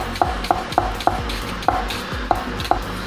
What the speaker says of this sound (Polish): całą tą cebulę przerobimy teraz właśnie na taką kostkę drobną